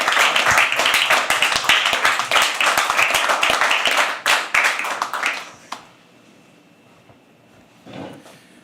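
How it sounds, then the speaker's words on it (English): Dense clapping from an audience at a live poetry open mic at The Habitat, loud and sustained for about five seconds, then stopping abruptly, leaving near silence with a faint brief murmur near the end. "Keep clapping when he comes on stage"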